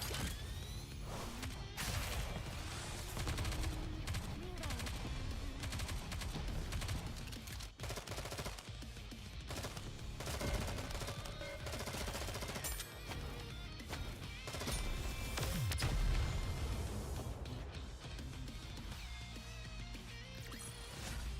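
Gunfire in the video game Nikke: Goddess of Victory rattles on in dense, rapid machine-gun bursts and scattered shots, with sharp impacts and crashes mixed over a continuous busy battle din throughout.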